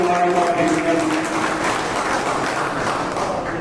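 Crowd applause welcoming transport minister Asim Goyal at a district visit event: steady, dense clapping from a gathered audience filling the whole stretch, with a faint voice or tone lingering at the start.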